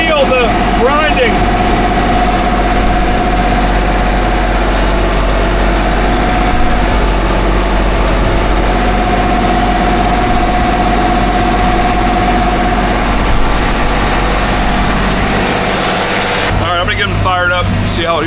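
Boat engines idling steadily after a mechanical repair on an offshore vessel far out in the Gulf, a continuous low, heavy rumble with a constant whine, running alone throughout before a brief rougher burst near the end.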